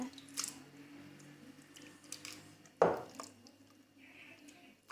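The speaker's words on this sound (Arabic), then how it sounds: "غادي نخوي فيه هذا الخليط" Date mixture poured into a kitchen cloth strainer, a few soft wet squishes and drips, with one sharper splat partway through, quiet and close with no talking.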